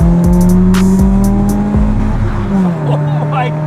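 Car fitted with an aftermarket cold air intake accelerating hard during a speed test, its engine note climbing steadily through the gears with brief shift breaks, loud and close from inside the cabin while people talk over it.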